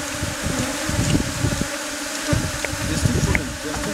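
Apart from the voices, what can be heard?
honey bees buzzing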